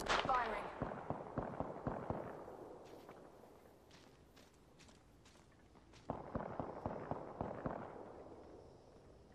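Gunfire in the shooter video game Apex Legends on PS4, a rapid burst of sharp shots followed by quieter scattered pops, then a second loud burst, with a voice speaking over the fire.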